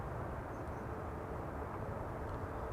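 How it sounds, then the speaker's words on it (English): An Atlas Air cargo airplane on the downwind leg into Amsterdam Schiphol gives a steady, distant engine rumble that holds even throughout. "We've got the Atlas Air on the downwind leg."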